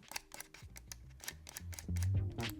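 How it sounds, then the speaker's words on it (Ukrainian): Side buttons on a Razer Viper V3 Pro gaming mouse clicked repeatedly, a quick series of short, crisp, close clicks, followed by a low hum toward the end. "Натискаються добре, клік короткий та чіткий"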